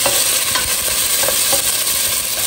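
Tomatoes being mashed in a pot for shrimp sinigang: a steady, close wet stirring and squishing with soft clinks of the utensil against the pot, continuous and moderately loud, with no voices.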